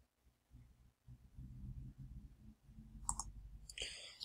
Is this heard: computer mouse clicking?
yes